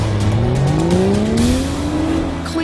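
A Toyota Supra and a BMW drag racing, engines revving hard and climbing steadily in pitch as they accelerate together, loud and close with a hint of tyre noise and no talk.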